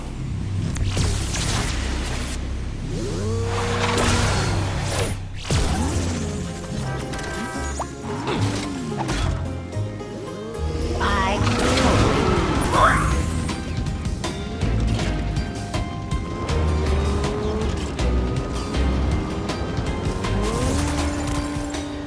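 The Burn Cycle land vehicle in the video game Skylanders SuperChargers races along with a constant engine roar, rising and falling revving tones, and repeated crashes and thuds from impacts, loud and continuous.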